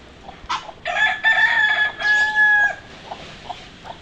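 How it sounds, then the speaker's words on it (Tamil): Chickens and ducks squabble by a water pan in a Selaiyur, Chennai yard: a loud, rooster-like crowing call rises over clucking for about two seconds, then scattered short clucks fade out. "கோழிக்கும் வாத்துங்களுக்கும் சண்டை"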